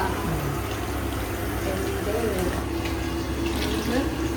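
Water pours steadily into a cooking pot for prawn biryani made with seeraga samba rice. The continuous gushing fill runs at a moderate level from start to end, with faint traces of a voice underneath.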